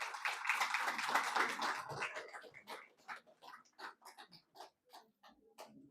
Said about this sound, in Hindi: सभी भाई बहन ने तालियों के साथ